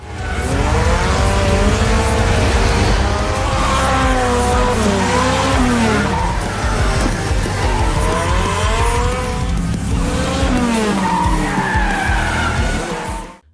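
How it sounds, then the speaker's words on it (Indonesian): Nissan 240SX and Skyline race and drift downhill in a film scene, loud engines revving with repeated long tire squeals and skids, sweeping pitch changes across the whole stretch. "Terjadi aksi kejar-kejaran serta drifting yang memukau antara 240 SX dengan Skyline IR45."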